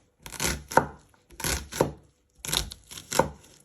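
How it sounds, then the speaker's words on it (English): A knife chops food on a board in four separate bursts of quick, crisp cuts, each burst followed by a short silence, close and fairly quiet. "And you just want to chop it"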